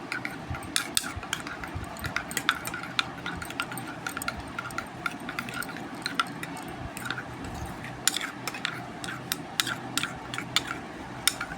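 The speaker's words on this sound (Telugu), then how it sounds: "ఇప్పుడు గుడ్డుని వేసుకుందాము బాగా మిక్స్ చేసుకున్నాము" A utensil stirring and beating egg in a bowl, quick irregular clinks and taps against the sides repeating steadily over a faint background hum, close and clear.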